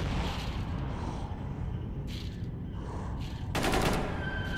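Gunfire in the video game S.T.A.L.K.E.R. Shadow of Chernobyl, Prosectors Project mod: dense, continuous rattling shots with a louder burst near the end, over a steady noisy background.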